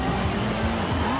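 Engine roar of a 2008 BMW M3 drifting, with wavering rising and falling tones from the engine and squealing tires, loud and close throughout the short burst.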